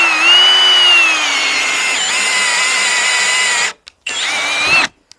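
A drill bit sharpener grinding flat spade bits: a loud, close, steady high-pitched whine with wavering pitch that cuts out abruptly near the end, briefly returns, then stops again, no voices.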